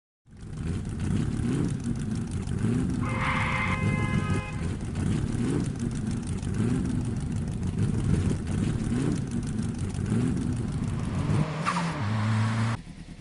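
A car drives along steadily into town, with a continuous engine hum and road noise close by. The sound holds level for about twelve seconds, then the engine note drops as the car slows near the end.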